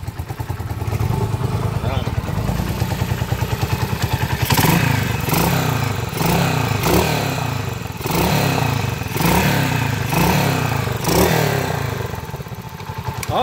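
A Honda TMX155 motorcycle engine runs loud and close, idling unevenly with rhythmic thumps and clattering, its roughness pulsing throughout.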